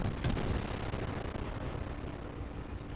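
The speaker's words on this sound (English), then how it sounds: "And somebody did shoot at me" Booming naval gunfire from warships in World of Warships, a dense low rumble of shots and blasts sustained at moderate distance with no speech.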